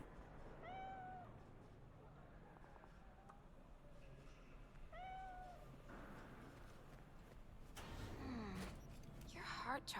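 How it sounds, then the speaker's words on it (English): A cat meows twice in the video game Cyberpunk 2077 while being petted, each cry short and clear with a falling pitch, heard over low ambient game noise. A brief voice and some rustling follow near the end. "I can't help it, I have to pet the cat."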